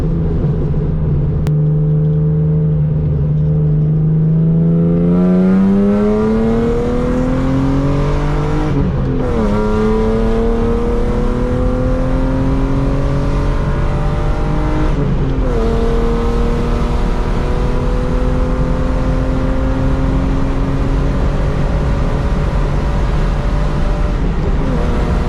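A loud BMW E36 revs hard while driving, its engine note climbing through gears in rising sweeps with brief drops at each shift over a constant close rumble, with no talk.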